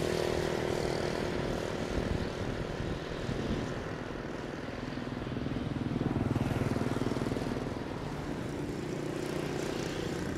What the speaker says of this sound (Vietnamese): Chiếc Airbus A330 của hãng Vietjet Air đã hạ cánh xuống đầu đường băng 29R.